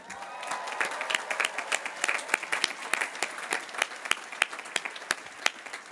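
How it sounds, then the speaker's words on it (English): University commencement audience applauds, with sparse, distinct individual claps ringing out in a loose, uneven rhythm at moderate volume. "I ask the class of 2025 to give them a big round of applause"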